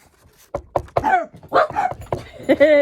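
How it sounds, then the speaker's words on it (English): A nearby dog gives a few short barks and yips mixed with whimpering, while a voice talks at the same time. "My dogs."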